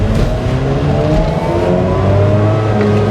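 A 2004 Mazda RX8 with a 6-speed manual, bought as a salvage car, revs loudly up toward about 7,000 RPM, its engine note climbing and holding close and dominant, with no talk.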